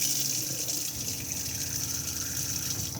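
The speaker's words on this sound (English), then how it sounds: "we can then turn the water pump on just here" A motorhome's onboard water pump runs with a steady hum while water flows and gushes continuously from a tap inside the Benimar Mileo 346, close by and unbroken, with no talking.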